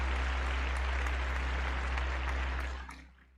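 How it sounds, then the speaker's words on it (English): A round of applause from an audience for a performer, a dense steady wash of clapping over a low hum that fades out toward the end, no talk. "there's a big round of applause for her"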